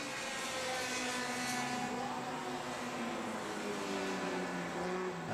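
Vintage race cars at Virginia International Raceway drone in a steady blended roar from a distance, engine notes rising and falling as small groups pass, with no talk.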